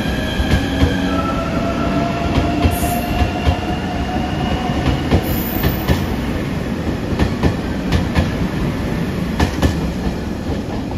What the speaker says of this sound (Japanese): 高松駅特急一周地松山行き8000系特急電車リニューアル車です。